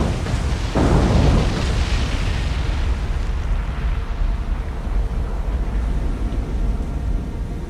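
Torpedo strike on a supply ship in a naval warfare game set among Imperial Japanese Navy vessels, a heavy explosive burst near the start swelling into a long, rumbling roar that slowly settles with no voices.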